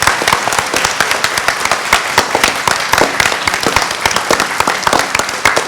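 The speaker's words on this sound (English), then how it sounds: "So give them a big round of applause." An audience at an annual day event gives loud, sustained applause, dense clapping from many hands that continues without a break.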